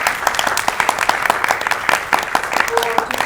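Enthusiastic crowd applause for a man called to the stage at a cultural event, continuous rhythmic clapping from many hands with faint voices mixed in.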